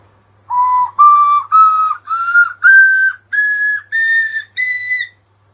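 A small bamboo wind instrument plays a do-re-mi scale, eight clear breathy whistled notes stepping upward one after another, loud and close with airy hiss between them.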